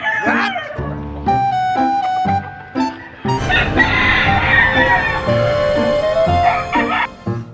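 Chickens and a rooster, including a wild labuyo-type fowl, crow and cluck repeatedly and loudly at close range in a rural yard, with several overlapping crows and no talk over them.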